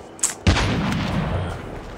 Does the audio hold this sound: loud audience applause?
no